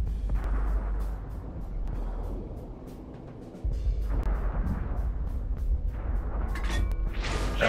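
A tank cannon fires in World of Tanks, with several heavy booms and blasts at close range. The shots come in uneven bursts and crackling bangs over a rumbling background.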